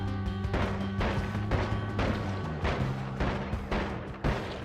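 Missile explosions in a video game land as repeated heavy booms and crashes, several impacts in irregular succession over a dense, noisy game soundscape.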